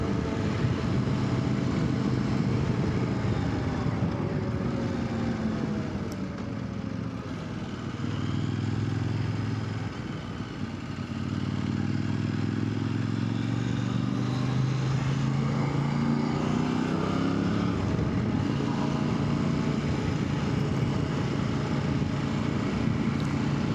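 A Kove 800X Rally adventure motorcycle with knobby tyres is ridden. Its engine drones steadily, revving up and down through gear changes, with a brief dip in the middle and loud wind rush throughout.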